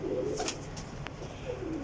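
Soft low Kasuri pigeon cooing in a short burst, with a faint bird call mixed into steady background noise.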